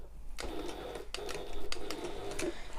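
A sewing machine stitches a seam on a shoulder bag, needle down with the presser foot lowered, a steady mechanical whirr broken by a few brief pauses and restarts, close and fairly quiet, with no talking.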